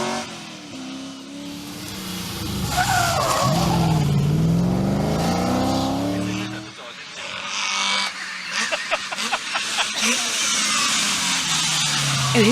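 A Triumph TR7 historic rally car races along a tarmac stage, its engine climbing in pitch as it accelerates and passes, loud and near, then gear changes and fading revs, with a voice talking over it.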